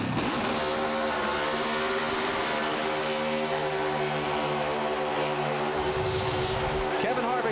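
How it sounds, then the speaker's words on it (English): Kevin Harvick's Chevy Monte Carlo NASCAR stock car roars through celebratory burnouts and donuts at Indianapolis Motor Speedway, a loud sustained engine wail that surges and rises near the end, with a commentator talking over it. "Let's see what kind of burnouts and donuts he does"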